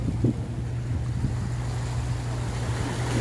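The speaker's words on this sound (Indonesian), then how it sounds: "Ombaknya mulai gede lagi, teman-teman, dan arusnya tuh lihat kapal yang lagi nyebrang itu." Ocean waves wash steadily with wind buffeting the microphone, while a low, steady engine hum from a crossing boat runs underneath.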